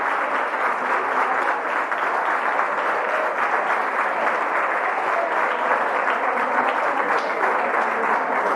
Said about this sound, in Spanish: que lo aplaudamos muy fuerte